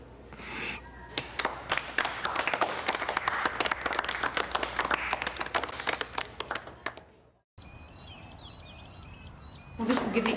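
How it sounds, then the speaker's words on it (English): A classroom audience at a school gives a round of applause, a dense burst of clapping lasting several seconds before it cuts off abruptly, followed by quieter room sound. "How about a round of applause?"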